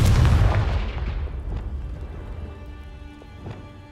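A Confringo spell explodes in Hogwarts Legacy: one loud, booming blast at the start whose deep rumble slowly fades, with a smaller thud near the end.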